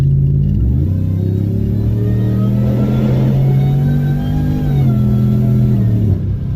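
A Whipple-supercharged Ram truck accelerating, its engine rumbling loudly up close as the supercharger whine climbs with rising revs, dips briefly, then surges again before cutting off near the end.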